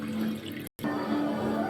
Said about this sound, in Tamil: ஒரு சொம்பு தண்ணி ஊற்றலாம்